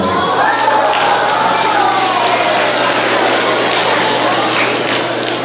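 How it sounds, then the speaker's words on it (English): An audience at an elementary school geography bee claps steadily in a dense, continuous round of applause, loud and close, lasting the whole stretch with a faint hum beneath and no clear voices over it. "Give Sydney a big round of applause."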